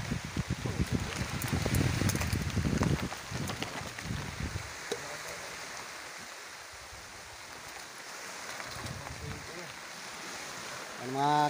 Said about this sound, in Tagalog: Hindi tumitila yung ulan.